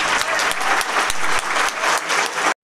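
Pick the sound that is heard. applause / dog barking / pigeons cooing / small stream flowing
applause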